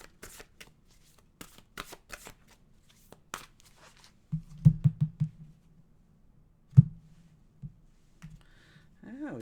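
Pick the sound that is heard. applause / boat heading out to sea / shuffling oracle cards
shuffling oracle cards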